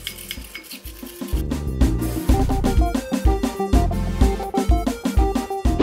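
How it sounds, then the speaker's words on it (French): Homemade carrot cleansing gel being mixed by hand, a steady clatter of a utensil scraping and knocking against the bowl in quick repeated strokes, close and fairly loud, with no talking. "je viens mélanger toute ma préparation, ma composition"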